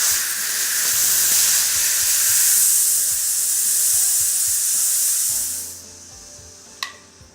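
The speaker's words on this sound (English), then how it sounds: "not only can you hear the pressure release" Steam rushing out of a Calphalon pressure cooker as its dial is turned to low to release pressure, a loud, steady broadband hiss lasting several seconds before cutting off, followed by a brief click.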